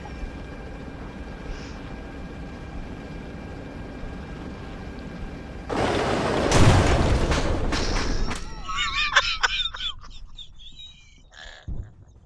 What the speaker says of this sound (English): I heard the grenade.